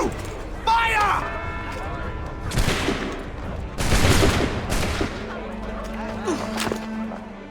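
Musket volley gunfire in Assassin's Creed 3: several sharp broadband cracks land in clusters around the middle, the loudest near the four-second mark, with game voices and background ambience around them.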